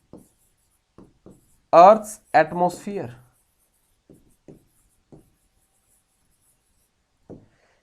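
Examples are written on a board in a classroom lesson, with short scratchy strokes coming in scattered taps and scrapes, while someone speaks briefly partway through.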